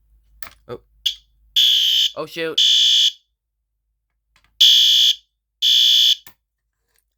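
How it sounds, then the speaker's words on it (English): A loud, shrill fire alarm blares in two pairs of harsh buzzing bursts, with a brief exclamation from a voice between the first two. "So if you pull that fire alarm"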